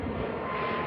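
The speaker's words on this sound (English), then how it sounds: "here we have Spirit 1157 to Myrtle Beach, and that is a A320" Spirit Airlines Airbus A320 jet at Boston Logan Airport, a steady broadband engine roar filling a brief moment without pause, loud and close, with no voices.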